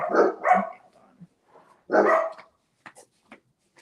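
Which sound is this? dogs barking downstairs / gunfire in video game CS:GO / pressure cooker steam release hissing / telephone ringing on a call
dogs barking downstairs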